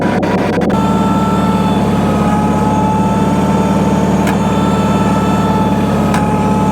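A 50-year-old Bolens HT20 large-frame garden tractor engine runs at a steady, loud, close drone with a constant low hum and faint mechanical whine, a few brief clicks at the start.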